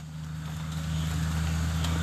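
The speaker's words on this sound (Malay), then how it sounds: "Bunyi macam macam kereta." A steady low vehicle rumble hums through the short stretch, gradually swelling slightly as if a car is close by, on a hill.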